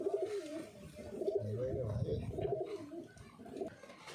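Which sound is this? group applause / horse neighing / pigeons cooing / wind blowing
pigeons cooing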